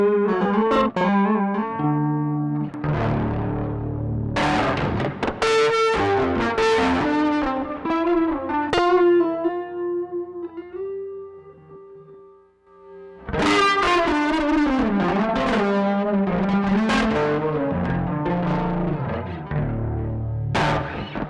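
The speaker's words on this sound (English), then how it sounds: "The Pet Yeti is a monster of a pedal that's developed by an indie pedal company named Cosmodio Instruments." Electric guitar played through a Cosmodio Instruments Pet Yeti overdrive pedal, a loud, thick distorted tone with ringing chords and single notes that sustain and decay. After a near-quiet pause, the strumming returns with a burst of full chords.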